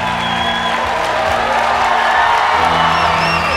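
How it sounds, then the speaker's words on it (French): A packed audience at the Grand Rex cinema in Paris greets Jamie Lee Curtis with dense, loud applause and cheering, a continuous roar with scattered whoops and shouts throughout. "tonnerre d'applaudissements pour Jamie Lee Curtis"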